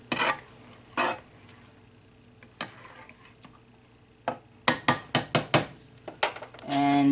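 Beef stroganoff cooking in a pan, seasoned with pepper and Himalayan salt, gives off a low steady sizzle broken by several sharp clinks and scrapes of a utensil stirring against the pan, with a louder burst of frying near the end.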